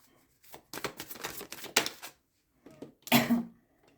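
Tarot cards are handled and gathered up, producing a few clustered papery taps and shuffles, close and moderately loud, with short pauses between bursts and no talk.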